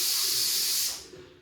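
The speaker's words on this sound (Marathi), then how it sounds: "कुकर लावलेला आहे बटाट्याचा" A pressure cooker boiling potatoes lets out a loud, steady steam hiss that fades away after about a second.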